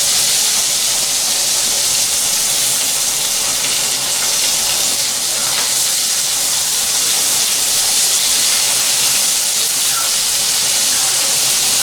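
Butter sizzling with eels in a pan, producing a loud, constant bright hiss that stays even and close throughout, with no voices.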